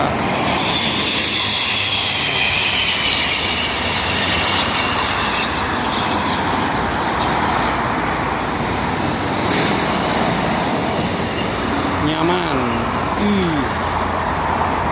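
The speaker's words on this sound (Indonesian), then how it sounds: "Mobil truk barang bener ke arah barat banyak pagi ini." Steady, loud roar of heavy highway traffic on the Jakarta-Cikampek toll road in the morning, cargo trucks rumbling past continuously close by, with a brief voice and a short horn-like tone near the end.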